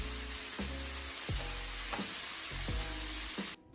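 Beef fries in a pan for beef sopes, a steady close sizzle broken by several sharp scraping stirs, before the sound cuts off near the end.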